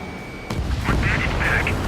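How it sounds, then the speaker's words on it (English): A missile launches in Ace Combat 7: Skies Unknown with a sudden whooshing blast that rises into a loud, roaring rush, under faint radio-style voices. "Uh-oh, missile fired."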